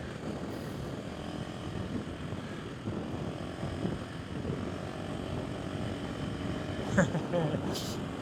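A 500 or 890 motorcycle engine drones steadily while riding through sand, a continuous broadband rumble with a brief louder surge near the end.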